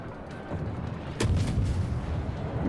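Ship's rear turrets firing in a naval boarding-action video game: one sharp booming shot lands, then a sustained low rumble rolls on behind it.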